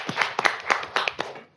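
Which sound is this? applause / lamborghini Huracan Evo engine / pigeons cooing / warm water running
applause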